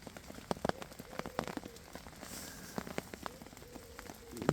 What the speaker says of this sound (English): This rain ain't stopping anytime soon by the look of it.